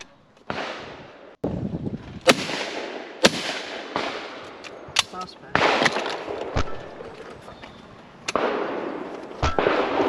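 Shotgun blasts at clay targets on a sporting clays stand during the Browning Sporting Masters 2024 shoot, several sharp, loud reports spaced irregularly, each followed by a short outdoor echo, with some background voices between shots.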